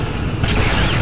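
Photonic torpedoes launching from a starship in Star Trek: Legacy, a steady low rumbling boom that swells into a brighter, hissing rush midway, loud and continuous with no talk.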